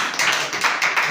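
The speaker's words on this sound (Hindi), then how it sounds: "उसके लिए एक जोरदार ताली।" Applause from a live audience at a Hindi spiritual talk: a dense, steady wash of many hands clapping at close range, sustained for about a second.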